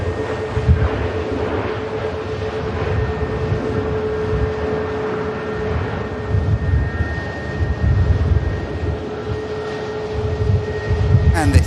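A Ryanair airliner touches down at Manchester Airport, a continuous engine rumble with a steady tonal hum running throughout, swelling slightly in places, with people talking over it.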